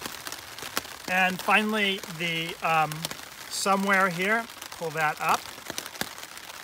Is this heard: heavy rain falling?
yes